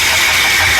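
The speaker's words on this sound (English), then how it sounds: "The oil pump makes abnormal noise." Abnormal noise from a car engine's faulty oil pump: a steady, loud mechanical whine with a bright high-pitched tone over a continuous engine hum, running unbroken throughout.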